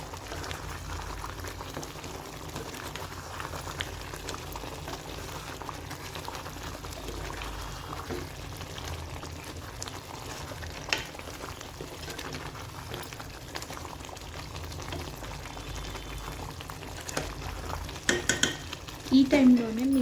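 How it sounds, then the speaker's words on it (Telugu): Spicy green chicken gravy with chicken masala and kasuri methi bubbles steadily in a pot while being stirred, a constant low simmering burble with occasional scrapes that grows a little busier near the end. "కొంచెం చికెన్ మసాలా, కొంచెం కసూరి మేతి వేసి బాగా ఒకసారి కలుపుకోండి."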